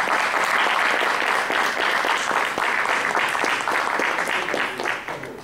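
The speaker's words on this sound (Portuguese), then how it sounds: "Queria uma salva de palmas, por favor." An audience at a marginal literature gathering claps continuously in a dense, loud, sustained round of applause that tapers slightly at the end.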